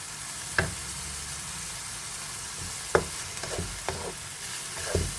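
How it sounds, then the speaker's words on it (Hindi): Onion frying together with meat in a pan, a steady sizzle under repeated sharp scrapes and knocks of a spoon stirring, with no talking. "तो ओनियन को भी इसके साथ हम अच्छे तरीके से भून लेते हैं"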